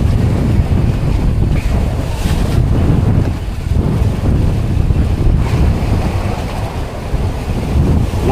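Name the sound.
rough sea waves and wind at sea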